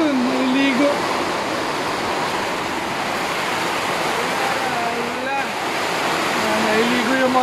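Heavy rain pours down in strong wind, a dense continuous roar and rush; a few people's voices sound faintly through the downpour.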